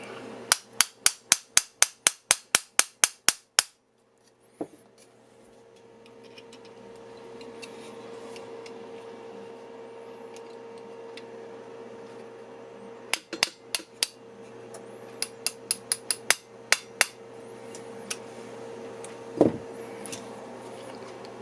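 Sharp metallic taps of a punch driving a pin into an AR-15 rifle during assembly, in quick bursts, a fast run of about a dozen at the start and another cluster later, over a steady background hum.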